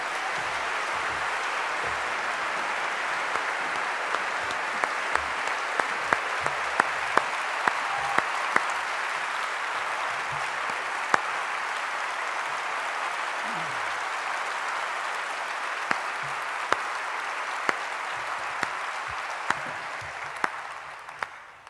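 Sustained applause from a festival audience greeting author Orhan Pamuk, a dense even wash of clapping holding steady for about twenty seconds before tapering off at the end.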